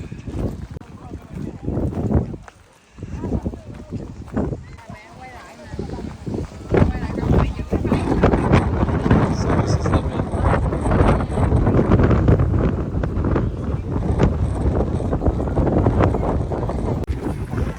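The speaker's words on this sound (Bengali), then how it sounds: "অনেক বাতাস এবং অনেক ধুলা" Strong coastal wind buffets the microphone at a natural rock arch on the coast, a continuous roaring rumble that swells louder midway and stays heavy to the end, with people talking underneath.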